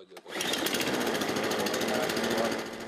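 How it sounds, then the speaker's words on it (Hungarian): A lawn mower engine starts with a short cough and then runs at a steady, loud, buzzing rhythm in a courtyard, close to the microphone, with no voices over it. "Beindult a fűnyíró is"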